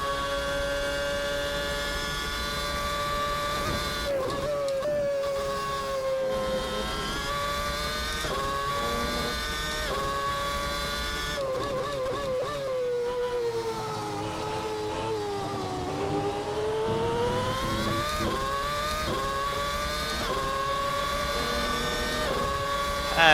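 A McLaren MP4/22 Formula One car in a racing game screams at high revs for a long lap stretch, the engine note climbing through gears with sharp upshift cuts and dipping under braking, loud and steady throughout.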